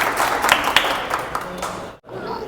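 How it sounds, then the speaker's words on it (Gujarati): An audience claps at an indoor 50K subscriber celebration with cake cutting: dense, steady applause close by, fading briefly near the end before picking up again. "તો એમને પણ તાળીઓથી જોરદાર ભાઈનો પ્રેમ છે."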